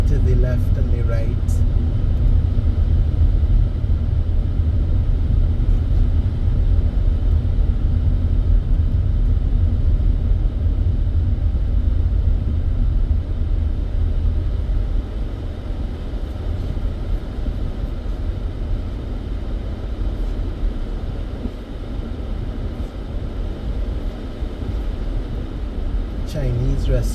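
A car drives along a road in Trinidad, heard from inside as a steady low engine and road rumble that eases slightly partway through, continuous and fairly loud with no break.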